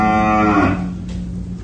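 A cattle calf on a farm gives one loud, close moo that falls away into quieter background noise.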